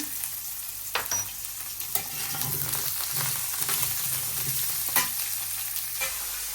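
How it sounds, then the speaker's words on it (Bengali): Turmeric, chili and salt sizzle in a hot pan while a utensil scrapes and stirs in irregular clicks and knocks over the steady frying hiss. "এখন একটু ভাজা ভাজা হয়েছে"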